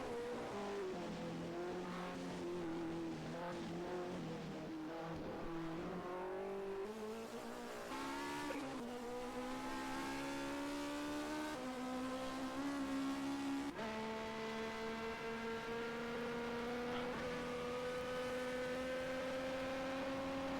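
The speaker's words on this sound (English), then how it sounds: "the Cosworth does not even sound good in this car" A Cosworth Formula 1 racing car engine in a video game revs up and down through several gear changes, a high whining drone that climbs and drops repeatedly, loud and continuous.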